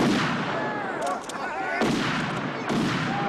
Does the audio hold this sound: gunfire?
yes